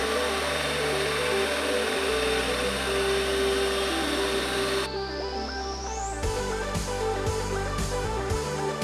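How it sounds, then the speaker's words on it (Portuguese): A drill bores a hole in the side panel of a kitchen-cabinet arcade, giving a close, continuous motor whine that shifts pitch partway through and then breaks into rougher pulsing grinding. "eu vou fazer um furo aqui na lateral"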